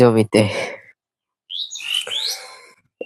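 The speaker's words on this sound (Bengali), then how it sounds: "এই যে বিল, পাখিরা কিচিমিচি ডাকতেছে" Bird chirps over an open village marsh beside rice paddies, a cluster of high tweets after a brief voice, with quiet gaps between.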